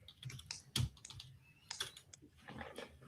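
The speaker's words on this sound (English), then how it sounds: "If there was anybody other than Russ that was typing away" Keys clatter on a computer keyboard in irregular bursts of quick, light taps, with one sharper clack near the start. The typing is faint and close, with no voices over it.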